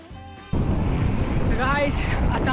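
At a roadside stop near Lonavala, strong wind buffets the microphone with a loud, continuous roar that starts abruptly, while voices are heard faintly underneath.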